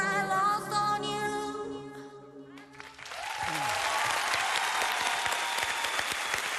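Singing with held tones fades out, and then a large television studio audience breaks into loud, sustained applause that carries on to the end.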